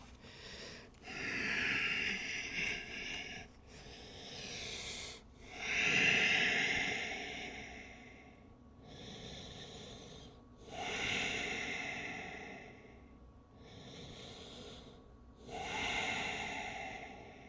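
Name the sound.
deep breathing during a forward-fold stretch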